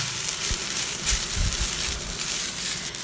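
Soft, continuous frying crackle of moringa leaves in a hot clay pan, with a few low thumps and brief rustles; no voices.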